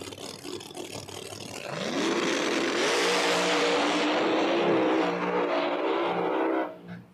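No-prep drag race cars launch down the strip at an Epping, New Hampshire event, loud rising engine roar building from a rumble into a sustained howl, then fading out.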